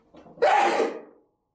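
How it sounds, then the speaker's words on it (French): A single sharp human sneeze, close and brief, with a soft intake of breath before the explosive burst that quickly fades. "J'étais un peu sauvé par mon éternuement."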